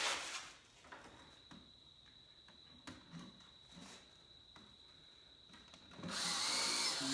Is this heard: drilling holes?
yes